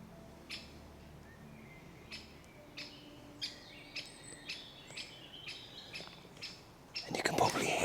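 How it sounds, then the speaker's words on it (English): A wren sings in short, repeated bright bursts about every half second, fairly near, with a louder rustling noise at the end. "you can probably hear the wren as well"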